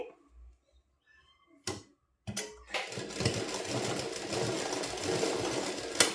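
A sewing machine stitches a pencil pant in a steady, continuous whirr after a few short starts and clicks, running loud and close with faint voice at the beginning.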